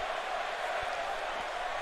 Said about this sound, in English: Lively crowd here in Genting Arena